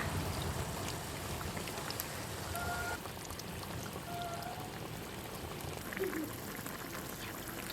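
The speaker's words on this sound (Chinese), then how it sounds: "加点鸭脖的汁子。" Duck neck sauce pours onto a dish of spicy braised duck pieces, a soft, steady liquid trickle heard close and continuous, with faint background noise and no talking.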